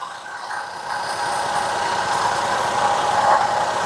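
A Maruti Eeco engine idles with a steady, close mechanical rumble and slight vibration, continuous from start to finish.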